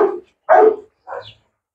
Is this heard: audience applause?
no